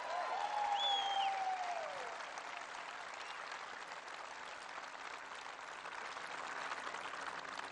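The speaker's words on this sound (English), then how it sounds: "Give them a big round of applause." An outdoor town hall crowd at a seed-saving farm in Decorah, Iowa applauds, the clapping soft and distant, with a couple of rising whistles early on before the applause settles into a steady hiss.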